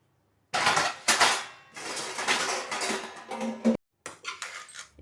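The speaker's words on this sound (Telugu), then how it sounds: "ఫ్రై ఒక గిన్నెలోకి తీసుకొచ్చేస్తాను." Chicken fry is moved into a bowl in a home kitchen, with a run of close metal clatters and scrapes of a spoon against pots and vessels, loud and irregular with short pauses, no talking.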